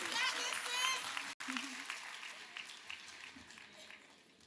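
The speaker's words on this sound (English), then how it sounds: "Clap it up, clap it up, clap it up." An audience claps steadily at a fairly low level, a broad, even patter of many hands, with a voice talking over it.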